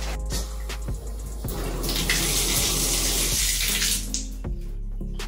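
Water runs steadily from a bathroom tap in an apartment, a close broadband rush that swells midway and then eases off, with a few clunks at the start and end.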